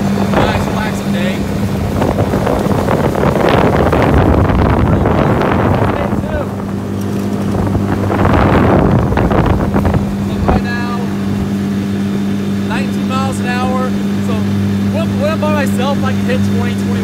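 A 2017 Suzuki 15HP four-stroke short-shaft outboard motor hums steadily on a boat under gusting wind noise, while someone talks over it throughout.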